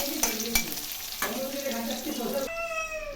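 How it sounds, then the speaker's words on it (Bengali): Onions hiss and crackle as they drop into oil left from frying rohu fish, with a few sharp clacks from the pan and a high meowing cry near the end. "মাছ ভাজার তেলে পেঁয়াজ দিয়ে দিলাম"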